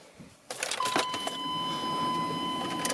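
A cold, rough-running K1500 pickup truck engine catches after a short pause with an abrupt burst, then settles into a steady, close running drone with faint rattles.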